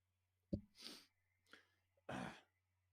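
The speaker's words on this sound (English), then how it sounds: "I can't clear my throat without being ridiculed?" A few short, rough throat-clearing bursts spaced over a couple of seconds, close and fairly quiet, ending with a longer harsh rasp.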